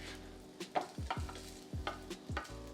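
Flipped hashbrown patties on a Ninja Foodi griddle make soft repeated scraping and tapping strokes with a light sizzle beneath, several spatula movements in an uneven rhythm, close and fairly quiet with no talk.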